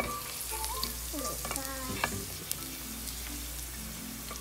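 Garlic sizzles steadily in hot oil, a close, continuous frying hiss with scattered stirring clinks and scrapes from a utensil.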